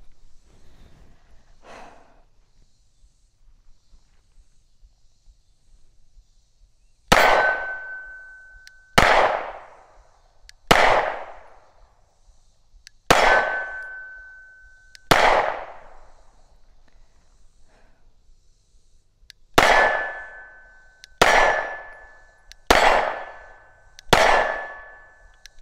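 Gunshots ring out one at a time, each followed by a sharp metallic clang of a steel target being hit; about nine loud reports in spaced, irregular rhythm over otherwise quiet outdoor background.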